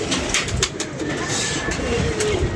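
A pigeon coos softly amid a steady, noisy outdoor background with a distant rumble, and no voices are heard.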